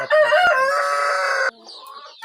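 A Light Bahama chicken on a poultry farm in Ullapara, Sirajganj, Bangladesh, lets out a loud, drawn-out crowing call up close, followed by quieter clucking and farmyard noise.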